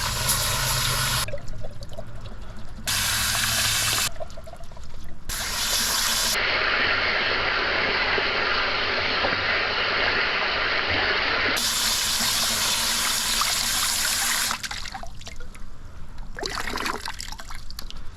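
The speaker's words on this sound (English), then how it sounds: "It's going through there a lot better now. Few moments later. Yeah, it's draining pretty good." Water drains and gushes steadily while the heater core of a 2014 VW Passat TDI is being flushed, a loud continuous rushing flow close by with hissing surges that cut in and out.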